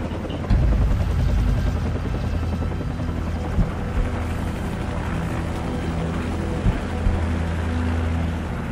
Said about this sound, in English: Take out that helicopter, it'll buy us some time.